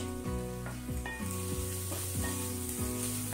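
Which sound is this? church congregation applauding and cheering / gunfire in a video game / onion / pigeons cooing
onion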